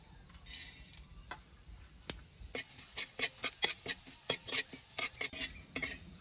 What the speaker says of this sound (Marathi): आता याच्यात तेल टाकून आपल्याला सौदा भाजून घ्यायचंय आहे